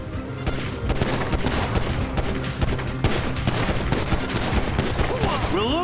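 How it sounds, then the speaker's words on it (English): Dense bursts of automatic gunfire rattle almost nonstop during a heist shootout in the video game GTA V, loud and close, with panicked voices shouting over the shots. "They're shooting! They're effing shooting!"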